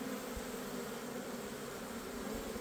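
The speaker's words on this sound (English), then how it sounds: "you can see all the bright fuzzy new bees" Honeybees from strong nucleus colonies buzz steadily at an apiary hive, a soft continuous drone that stays even and fairly faint throughout, with no voices.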